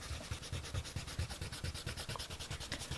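A pencil drawing of a Christmas gnome is erased with an eraser on paper in quick, steady back-and-forth rubbing strokes, soft and very close, with no talking.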